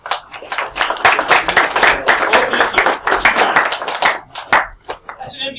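A university class applauds at the end of a lecture, a loud sustained burst of many hands clapping close by, with speech mixed in as it tapers off.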